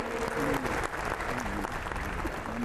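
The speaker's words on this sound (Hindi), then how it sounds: "बहुत सारी तालियों के साथ हम इसमें जुड़ेंगे" Crowd at the Vadodara Airport new terminal inauguration applauding the Prime Minister, a dense, loud, continuous clapping with faint voices and tonal sounds mixed in underneath.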